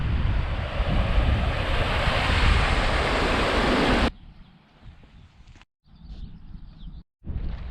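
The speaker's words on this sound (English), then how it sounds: "The wind is picking up" Strong wind blowing on a hilltop in the hills near Kendal, a loud roaring rush buffeting the microphone for several seconds before dropping abruptly to a quieter, intermittent gusting.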